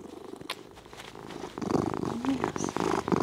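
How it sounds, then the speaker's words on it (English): A cat purring loudly and continuously up close, a steady rumbling drone that grows stronger partway through, with no talk. "He's purring so loud."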